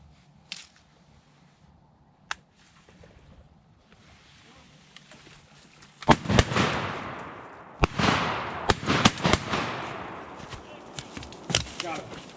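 Shotgun blasts during a teal duck hunt, several sharp, loud reports fired in quick succession around a decoy spread, with scattered shots following and people talking between them.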